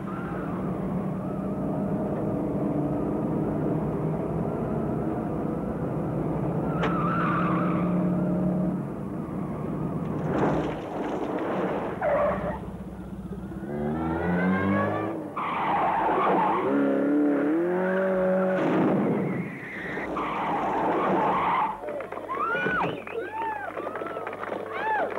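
An Austin Montego 1.6L car driving hard, engine roaring and tyres squealing in long rising screeches near and loud, with someone speaking over part of it.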